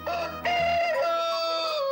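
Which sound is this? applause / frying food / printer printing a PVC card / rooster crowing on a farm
rooster crowing on a farm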